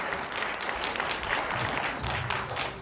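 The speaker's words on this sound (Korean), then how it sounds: "뜨거운 박수 부탁드리겠습니다" Audience applause at a Christian Liberal Unification Party rally, a steady wash of many hands clapping that carries on throughout without pause, moderately loud and filling the hall.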